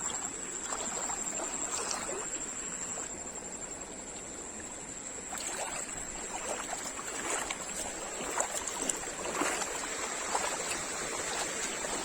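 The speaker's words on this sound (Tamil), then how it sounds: "பெஞ்ச மழையில் நல்ல ஒரு தண்ணி நல்லா ஓடுது." Rain-swollen stream water flowing steadily, a constant rushing trickle with small splashes, moderately close and continuous throughout with no voices.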